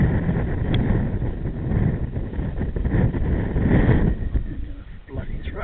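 A gusty headwind at an outdoor model-aircraft flying field buffets the microphone with loud, continuous low rumbling that swells and eases, masking everything else.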